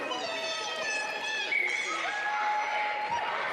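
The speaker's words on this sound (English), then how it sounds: "Pretty good crowd here." Crowd noise at a 12U girls' hockey game in Erie Insurance Arena, with just under a hundred people: a steady, moderately loud mix of voices with sustained shouts and tonal calls throughout.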